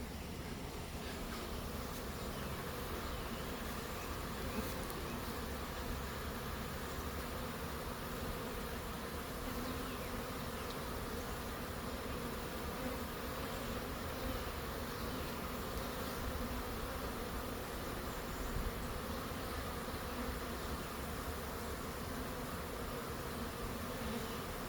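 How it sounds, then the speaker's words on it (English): A honeybee swarm arriving near privet fills the air with a steady, dense buzzing hum, constant and even throughout with no break and no voices. "There's still some bees coming in from far out there still."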